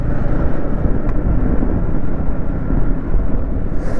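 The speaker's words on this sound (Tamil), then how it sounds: "ஐயோ செம்ம குளிர் அடிக்குதே, ஜில்லுன்னு காற்று அடிக்குதே" Cold wind blasts past an open safari bus in the Devaliya lion park, a loud continuous rushing and buffeting roar close to the microphone with no talk.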